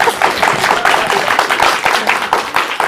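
A studio audience claps in a brief burst of dense, close, loud applause, with many hands striking in an irregular patter.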